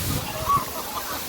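The second falls at Talakona roars in a steady, dense rushing hiss of cascading water, loud and continuous throughout.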